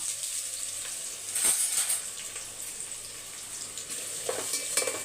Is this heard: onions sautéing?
yes